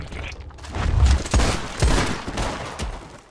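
Several close, booming gunshots in quick succession during modded outlaw combat and quickdraws in the video game Red Dead Redemption 2, loud, with rumbling tails.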